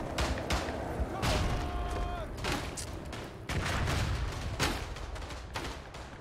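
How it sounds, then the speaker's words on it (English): Repeated explosions and gunfire from grenades in the World War I shooter game Verdun: loud booming blasts with sharp shot cracks, going on steadily across the whole stretch. "Forget about the grenade spam."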